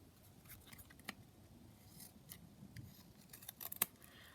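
Scissors snip through glued craft material in a quick series of soft, close cuts and rustles, faint and alone.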